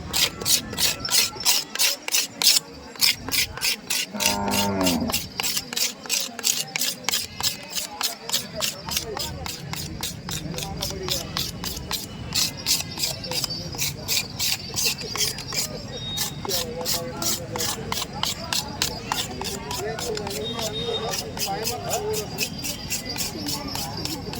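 Steady, rapid back-and-forth rasping of an abrasive strip on an ox's horn, continuing rhythmically throughout at close range.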